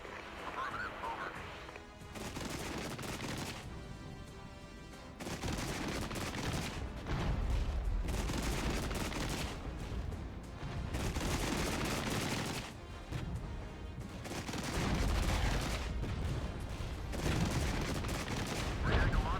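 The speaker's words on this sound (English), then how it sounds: "We're getting a lot of fire here." Sustained gunfire and scattered shots from the video game Regiments, dense and continuous across the whole stretch, with bursts rising and falling under steady battle noise and occasional voice chatter.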